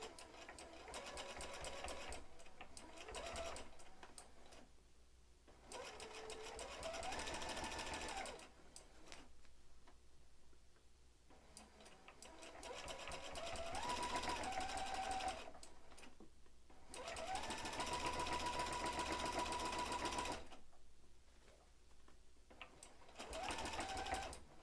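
A sewing machine stitches a quilt in several long runs of fast, even humming clatter, each lasting a few seconds and separated by short pauses, heard close and fairly quiet.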